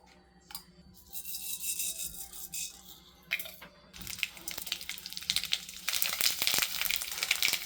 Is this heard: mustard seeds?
yes